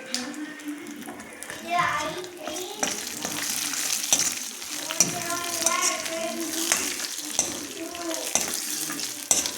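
Steady sizzling of food frying in a pan, with bursts of stirring and scraping, and faint voices in the background.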